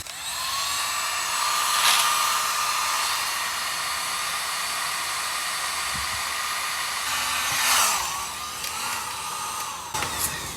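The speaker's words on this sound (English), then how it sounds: "Heat gun." A heat gun blows steadily to melt solder on a replacement fuel tank for a 1984 Pontiac Fiero, giving a continuous high whine and airy rush, close and loud, with a few brief knocks and shifts in pitch.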